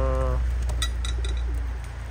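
Young pigeons and breeders in a loft give a brief low coo, then faint chirps and clinks, close and quiet over a steady low hum.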